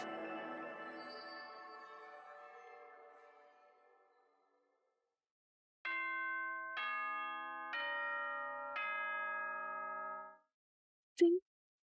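A school announcement chime from the video game Danganronpa 2: a fading bell tone, then four clear ascending ding-dong chime notes ringing out and stopping, followed by a brief click.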